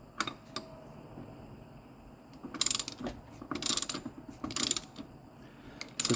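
A ratchet tightens the bolts of flex forks on a Hustler Fastrak mower, with three bursts of rapid clicking close by over faint background noise.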